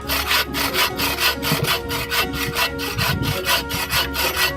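A hand saw cuts through thick wood outdoors during bushcrafting, with loud, close, rhythmic back-and-forth rasping strokes repeating quickly and evenly throughout.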